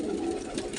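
Pigeons cooing inside their coop in cold weather, a close, steady low murmur of overlapping coos lasting under a second with no talk.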